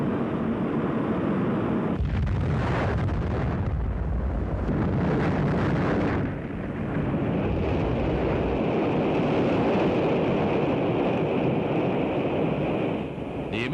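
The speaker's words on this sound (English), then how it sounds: "The immediate cause of the explosion is not known." Atlas-Centaur rocket blowing up shortly after launch at about 30,000 feet: a loud, sustained roaring rumble with a burst of crackling blast noise early on, continuing as a steady heavy roar without any voices.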